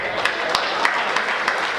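Audience applause welcoming poet Deepak Shukla on stage at a Hindi comedy poetry event; a dense, steady clapping crowd with occasional sharper claps standing out.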